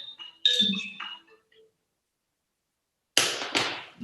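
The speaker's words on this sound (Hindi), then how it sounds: "सो ये तो फोन आ गया" A phone rings indoors, brief electronic tones with a pause between bursts, fairly clear against a quiet room.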